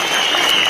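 Crowd at a political rally applauding steadily, a dense wash of clapping at close range that holds through the whole brief moment without a break.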